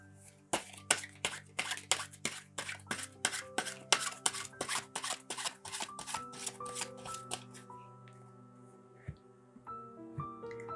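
Tarot cards are shuffled in a rapid run of crisp riffling snaps, then slow to a few scattered flicks as cards are drawn, with soft chimes ringing beneath.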